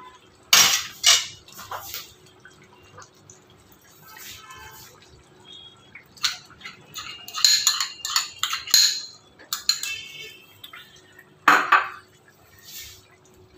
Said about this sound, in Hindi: इसको करेंगे अच्छी तरह से मिक्स